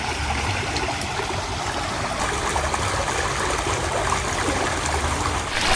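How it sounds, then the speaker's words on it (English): Steady rushing and trickling of a small stream at a Florida spring, splashing continuously like a little waterfall, close and fairly loud with no voices. "Sounds like it's like a waterfall over here. Yeah, look at that little stream."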